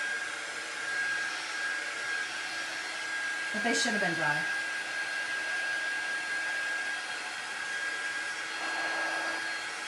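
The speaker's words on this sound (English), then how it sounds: "You can always hit them with a little bit of air, warm air." A warm-air craft heat tool blows steadily up close, drying a paper craft project, with a constant loud whooshing hum under a woman's brief speech.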